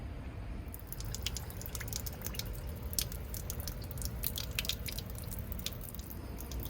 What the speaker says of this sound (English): we're going to go ahead and turn the valve open on the drain and see how that works.